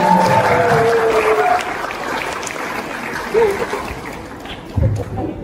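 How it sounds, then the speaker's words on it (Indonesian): Audience applause at a school academic talk show in Bekasi, a dense, steady wash of clapping that thins midway and swells again in brief bursts, with voices and cheers mixed in. "Tepuk tangan."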